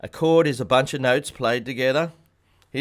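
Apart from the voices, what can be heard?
No distinct noise like a dog, phone or traffic.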